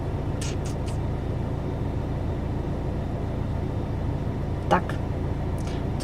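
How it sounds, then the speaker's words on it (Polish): A car engine idles steadily with the air conditioning running on a hot day, a constant low hum filling the clip, with a couple of faint higher sounds from outside, and no one speaking. "auto jest cały czas zapalone, bo chodzi klimka"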